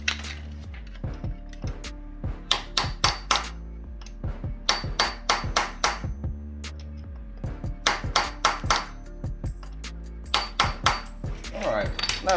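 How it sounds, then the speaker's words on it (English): Repeated sharp metallic taps strike a lock washer down onto a 2020 Kawasaki ZX10R front sprocket during a 520 chain and sprocket conversion, coming in irregular bursts of clinks with brief pauses, close and clear. "I've already pressed the lock washer down so it won't be able to back out"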